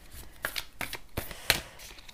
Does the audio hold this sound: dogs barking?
no